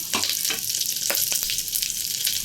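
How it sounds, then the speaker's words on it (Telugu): Dry red chillies, garlic and cumin fry in oil inside a cooker with a loud, continuous crackling sizzle and a few sharp pops, heard up close with no talking. "ఒక వన్ ఒక నిమిషం వేయించుకోవాలండి"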